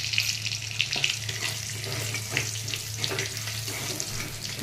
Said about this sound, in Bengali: তেলের মধ্যে আমরা দিয়ে দেব তেজপাতা ফোড়ন, দিয়ে দিচ্ছি গোটা জিরে